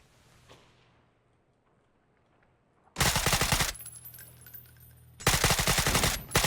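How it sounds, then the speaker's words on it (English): Automatic gunfire in PUBG during a custom match, with two long, loud, rapid bursts of rattling shots broken by a brief gap, following a few seconds of near silence, no talking. "He shot through his teammate, but it worked."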